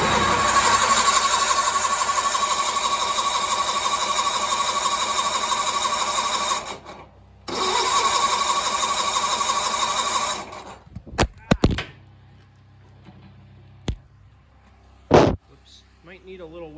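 A Sears Suburban tractor engine cranks without starting, with two long steady starter runs separated by a short break, followed by a few sharp mechanical clunks and clicks in quieter surroundings.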